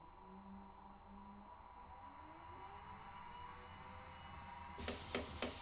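A Shimpo Aspire pottery wheel motor running, with a faint steady low whir and a soft hum that shifts slightly in pitch, followed by a few quick clicks at the end.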